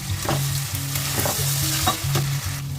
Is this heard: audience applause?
no